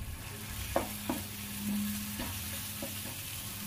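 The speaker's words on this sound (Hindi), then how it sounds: "इनको भी मैं अच्छे से मिक्स कर लूंगी यहाँ पे" Tomatoes cooked with black pepper and cumin powder get stirred in a pan, with a few distinct scraping strokes against a low steady sizzle, close and moderately quiet.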